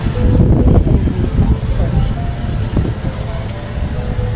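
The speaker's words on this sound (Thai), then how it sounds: "จะมีเสียงลมบ้างนะคะ เพราะว่าลมแรงมากวันนี้นะคะ" Strong gusts of wind buffet the microphone at a bus station in Surin, Thailand, a continuous low roar and rumble throughout with passing traffic underneath and someone speaking over it.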